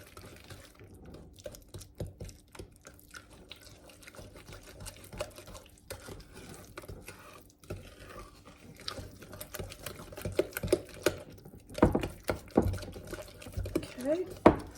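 Eggs being mixed into brownie batter in a bowl for double chocolate brownie bites, a steady scraping, clinking stir that grows louder and busier toward the end, with quiet background noise throughout.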